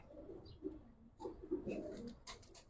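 Pigeons coo in soft, low bursts, a few calls spread across the stretch with faint chirps above, close by and alone without talk; the birds are Giribaz and coloured domestic pigeons kept as pairs.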